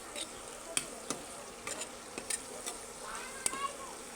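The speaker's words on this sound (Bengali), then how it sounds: "তাকে মশলাটা ভালো করে কষিয়ে নিই" Spice paste being sautéed in a pan for a fish dish, with a low, steady sizzle and several distinct scraping stirs of the utensil against the pan at irregular intervals.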